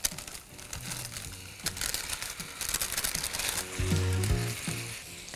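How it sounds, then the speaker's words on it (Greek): Roasted pumpkin pieces fry with finely chopped onion and a little garlic in a pan for a soup, giving a steady close sizzle with crackling bursts and stirring scrapes, louder near the end, with no talk. "Ανακατεύουμε και τηγανίζουμε έτσι για 1-2 λεπτά."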